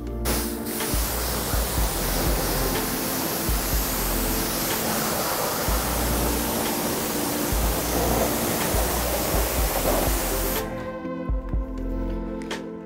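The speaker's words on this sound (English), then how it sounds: "And now you're gonna wanna rinse everything off." A steady, loud hiss of water spray rinses a car wheel and tire after cleaning with a non-acid wheel and tire cleaner, running continuously for about ten seconds before cutting off to a quiet tail.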